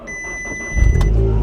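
A crash-damaged Audi S1 quattro engine cranks and fires, a loud close-up burst of engine noise rising suddenly near the end after a quiet start with faint electronic beeps.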